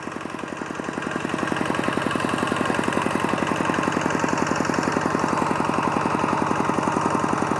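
A small walk-behind tractor engine runs steadily in a rice field, its rapid even putter louder after the first second and holding close and constant throughout.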